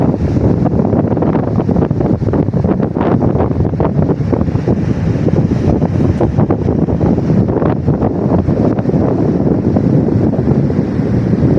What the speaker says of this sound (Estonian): Kõrvad puhkavad, kuuleb merelaine kohinaid.